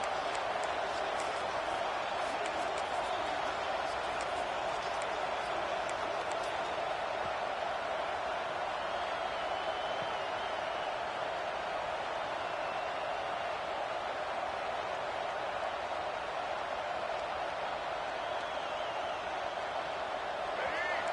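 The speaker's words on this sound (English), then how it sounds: "This crowd, full throat, spreading the eardrums and letting them know it's going to be a long day." Stadium crowd in a college football video game roaring continuously, a dense, steady wall of cheering that holds at a constant level for the whole stretch.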